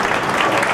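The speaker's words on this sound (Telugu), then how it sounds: "అందరూ చప్పట్లతో ధన్యవాదాలు తెలియజేయాలని చెప్పి కోరుతున్నాను" Loud, dense clapping from an audience at a railway station modernisation event, a brief unbroken burst of many hands.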